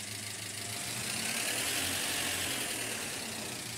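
A Russian truck engine in Farming Simulator 22 runs at a steady idle, a close, even mechanical drone with a low rumble and a broad hiss, unchanging throughout with no voices.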